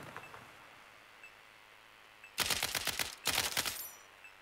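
Two short bursts of automatic fire from ALARA Prime crackle out after a quiet stretch, each a fast chain of crisp shots close to the listener.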